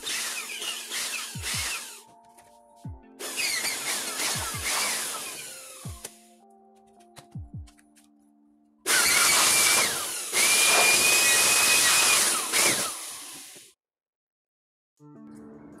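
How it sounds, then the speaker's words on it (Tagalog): An air blower cleans the cooling fan of an HP 15 Series laptop in loud, close hissing bursts of several seconds each, separated by brief pauses and quieter clicks. "i-blower ko lang saglit guys para sure tayo na mahinis."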